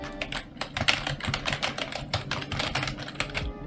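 Typing on a Corsair K55 membrane keyboard, a fast irregular flurry of soft, muffled key presses, close and fairly loud with no talking.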